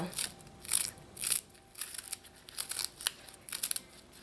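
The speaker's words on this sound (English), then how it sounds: "And cut the leaf up into ribbons." Knife slicing Trinidad callaloo leaves into ribbons, a series of soft crisp cuts and crinkles in an irregular rhythm, close and fairly quiet with no talk.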